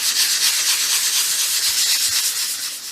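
Steady, hissing strokes of sandpaper rubbed back and forth over dolls house wood by hand, close and continuous.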